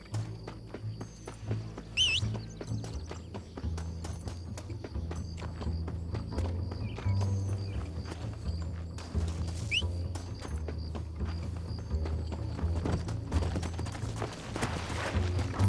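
Horse hooves clip-clop steadily in the Western game Red Dead Redemption, a continuous rhythmic trot at moderate loudness, mixed with game ambience and a brief high call near the start.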